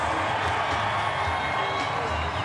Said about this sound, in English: give a big round of applause to Greg Lindsay and the Floating Oasis